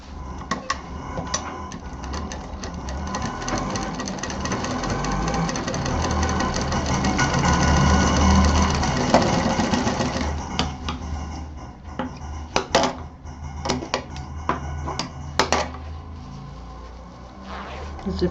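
A sewing machine stitches a zip onto a sling bag, a steady mechanical whir with rapid needle clatter for about ten seconds, then breaking into short bursts and pauses.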